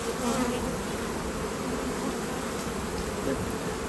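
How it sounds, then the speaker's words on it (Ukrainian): Honey bees buzz in a dense, continuous drone during a March apiary inspection, with the hive opened and frames lifted; the hum is close and steady throughout with no talk over it. "проводимо ревізію на пасіки. Відбираємо також бджіл на аналіз."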